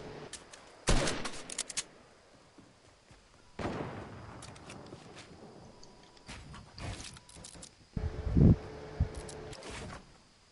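Video-game gunfire in sporadic bursts with booming explosions, loudest near the start and again toward the end, over a continuous background of battle ambience.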